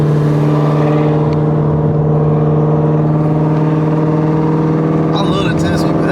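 A Shelby GT350R with a manual gearbox, running on E85, holds a loud, steady engine drone with strong even harmonics throughout, close and continuous, with a brief rising rev near the end.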